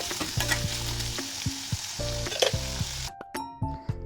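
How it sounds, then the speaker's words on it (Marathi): Chopped onions sautéing in a pan over a medium flame while cooking paneer makhani, a steady close sizzle with periodic stirring scrapes and clinks, quieting toward the end; no talking. "कांदे परतवताना आपल्याला मीडियम फ्लेमवरच परतवायचे आहेत"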